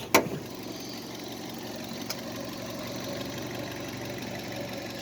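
Fiat 500 1.2 engine idling steadily just after starting, a continuous even hum heard at close range with a brief knock near the beginning and a faint tick midway, with no talking.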